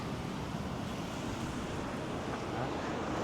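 Strong wind rushes steadily and loudly outside in New Zealand, a continuous broad roar buffeting the microphone.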